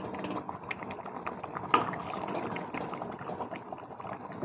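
Potatoes simmer in a covered pan of curry, giving a steady, close bubbling hiss with a brief louder bump partway through.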